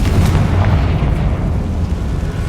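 The Confringo spell from Hogwarts Legacy goes off as a deep, loud explosion, a rumbling blast that fills the whole short stretch without any speech.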